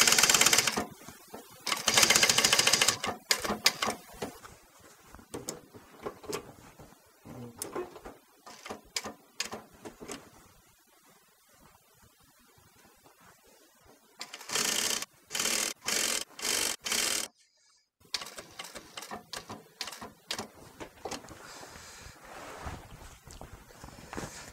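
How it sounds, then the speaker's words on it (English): Sewing machine stitching an upholstery bench seat cushion, heard in intermittent bursts of rapid mechanical chatter separated by pauses and handling rustle, with a longer steady run midway, close and fairly loud. "we can carry on now sewing around here"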